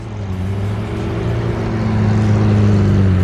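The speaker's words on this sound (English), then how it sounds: "I hope it picks up on camera how loud this idle is" A sports car's loud, steady engine idle with a deep rumbling drone that holds constant and swells slightly toward the end, with no talking over it.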